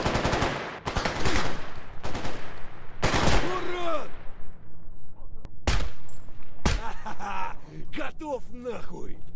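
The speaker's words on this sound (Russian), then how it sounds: "Это был последний выстрел с СВД." Loud SVD sniper rifle shots in the S.T.A.L.K.E.R. GAMMA shooter, several sharp cracks with ringing tails spread across the stretch, a last one near the end, with someone talking between them.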